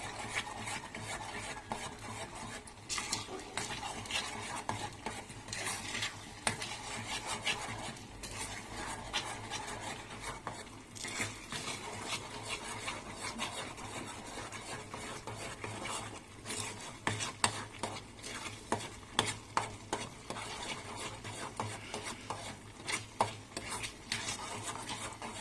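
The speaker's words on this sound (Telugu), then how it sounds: "కలుపుతూ ఉండాలి." A spoon scrapes and stirs thick Bombay Karachi halwa around a kadai in a continuous rasping rhythm, with sharper clinks of metal on metal standing out now and then, close and fairly quiet.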